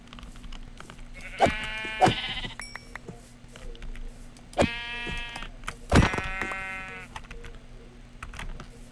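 Sheep bleat in Minecraft in several separate calls spaced a few seconds apart over a steady low hum, with occasional soft clicks.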